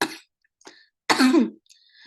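A dry throaty cough, then a pause and a harsher hacking cough with a throat-clearing quality, close and fairly loud with faint breaths between.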